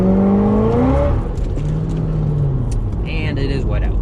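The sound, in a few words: supercharged Corvette driving on wet road at night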